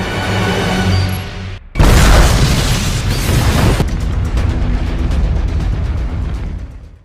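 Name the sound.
bomb explosion in a James Bond film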